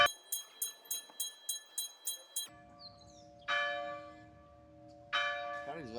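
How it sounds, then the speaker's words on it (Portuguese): Church bells toll at the start of mass: about nine evenly spaced, ringing strokes come close together, then fall silent, followed by a couple of long, bright sustained bell-like swells. "vamos deixar os badalados aqui."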